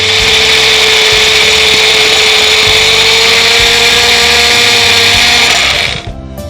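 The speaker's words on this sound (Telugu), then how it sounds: "ఇప్పుడు మళ్ళీ దీన్ని మిక్సీ చేసుకోవాలి." A mixer grinder whirs loudly and continuously as it blends coriander seeds, onions and water into a paste, with a steady high-pitched motor whine that cuts off abruptly near the end.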